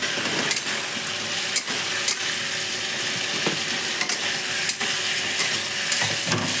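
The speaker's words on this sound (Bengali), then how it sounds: "এখন দিয়ে দিচ্ছি ভেজে রাখা আলু।" Fried potatoes stirred into a sizzling omelet curry in a pan, giving a steady close frying hiss broken by a few sharp scraping stirs.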